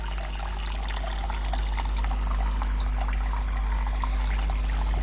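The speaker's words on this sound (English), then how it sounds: "The water runs very well" Steady trickling stream of water runs from a Spidem Divina Deluxe SUP025MYR coffee machine during descaling, a constant close liquid flow under a low motor hum with no voices.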